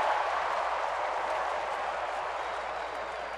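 A sellout baseball crowd at Miller Park in Milwaukee makes a broad, steady wash of cheering and chatter that stays even throughout, sounding like a large stadium heard from the broadcast booth.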